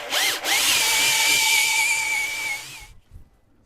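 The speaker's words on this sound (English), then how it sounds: "I'm just running the old wire wheel, up and down inside here" A wire wheel on a power tool scrubs inside the housing of a Land Rover 300 Tdi starter motor, giving a loud, steady, close high-pitched whine and grinding hiss for nearly three seconds before spinning down to silence.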